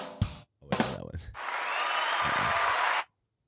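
A canned applause effect from a soundboard, a steady wash of clapping and cheering that runs for about two seconds and then cuts off abruptly. Brief voice sounds come before it.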